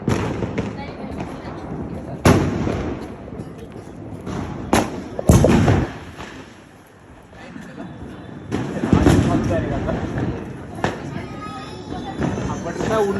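Firecracker bombs set off outdoors in Nagar, giving several sharp loud bangs and thumps spread across the stretch, with people talking in between.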